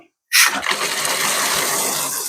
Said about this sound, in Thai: เปิดก๊อกน้ำออกมาน้ำไหลอย่างแรง